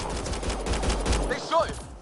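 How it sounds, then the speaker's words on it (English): Gunfire from the video game Mass Effect, a dense burst of shots crackling throughout, with shouting voices breaking through near the end. "They shot him!"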